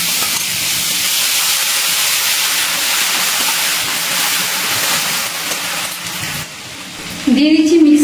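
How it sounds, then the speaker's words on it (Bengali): Whole cumin, coriander, cardamom, cinnamon and cloves frying in hot oil for a Bengali cauliflower and potato dish give a steady loud sizzling hiss, and near the end someone starts talking. "মশলাটা তেলে কিছুক্ষণ নাড়াচাড়া করে নিচ্ছি"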